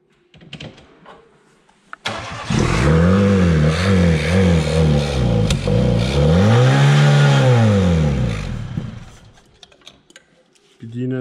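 A long-abandoned Fiat Tempra SX engine in a dusty garage revs up and down in close, loud pulses, then one longer swell and fall, with voices talking before and after.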